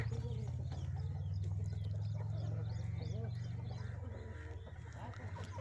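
Breeding hens cluck and chatter continuously on a farm, with a steady low hum running underneath and several birds audible at once.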